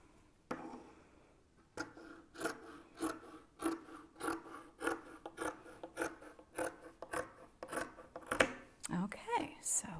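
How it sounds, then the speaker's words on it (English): Scissors snip through two layers of fabric to cut a 10-inch strip, making a rapid series of close, crisp cuts with a rasping edge. "I'm going to cut this line through both thicknesses to cut the 10-inch strip of fabric."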